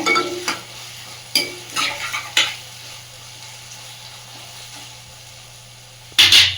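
Chopped tomatoes stir-frying in a pan for paneer butter masala gravy, with a steady low sizzle and several sharp scraping stirs of a spoon, a louder clatter of stirring at the end.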